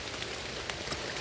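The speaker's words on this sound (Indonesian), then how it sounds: "Oh, udah hujan lagi, Bos." Rain falls steadily by an irrigation river in Karawang during a fishing trip, a close, even hiss of drops pattering on surfaces with a few louder taps, no voices.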